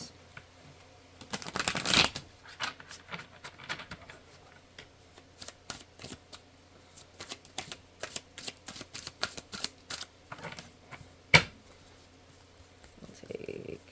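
Mystic Forest oracle cards being shuffled by hand, with bursts of riffling and soft flicking taps that come in uneven runs, close and fairly quiet.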